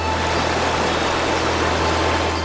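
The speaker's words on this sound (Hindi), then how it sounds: "बढ़ते ही गुल्ली बुल्ली को पानी की आवाज सुनाई देती है।" Steady, dense rush of flowing water near an old wooden bridge in an animated story, continuous and even, with no voices.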